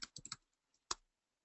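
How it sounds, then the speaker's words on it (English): Laptop keyboard typing, a quick burst of four close keystrokes followed by one sharper single key tap after a short pause, near and fairly quiet. "I'm typing something on my laptop right now."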